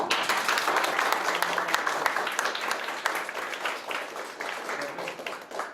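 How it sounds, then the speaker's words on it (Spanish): An audience at a talk on narrative therapy and feminism gives a loud round of applause, dense clapping that stays steady and then tapers slightly near the end, with no speech over it. "Un aplauso fuerte"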